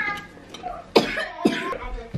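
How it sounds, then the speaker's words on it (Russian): A young girl coughs twice in sharp, close bursts at home, with soft background voices and a faint murmur between the coughs. "Как ты с кашлем в школу пойдешь?"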